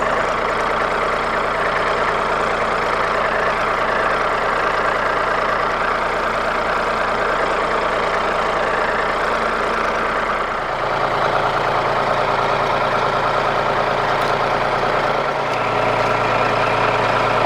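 A tractor engine idles while backing up to attach a backhoe, a loud, close and steady diesel rumble with a knocking texture that shifts to a deeper, heavier tone partway through.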